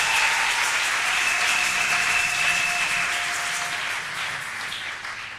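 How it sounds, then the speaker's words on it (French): A church congregation applauds loudly in sustained, dense clapping that gradually fades toward the end. "Et maintenant nous l'acclamons parce qu'il est là."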